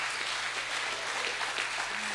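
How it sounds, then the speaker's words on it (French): Applause from the audience at a storytelling contest for tall tales, held at a heritage site in Bécancour; steady, dense clapping at moderate level throughout, with a low hum underneath. "on donne une bonne main d'applaudissements à nos 8 menteurs et menteuses"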